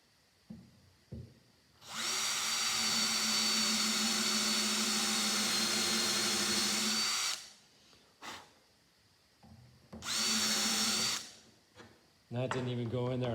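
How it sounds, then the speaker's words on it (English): A power drill bores into oak while a boat tiller is fitted, running in two sustained bursts, one long and one short, loud and close, with brief pauses and a little talk around them. "I'm going to have to drill that because that's oak"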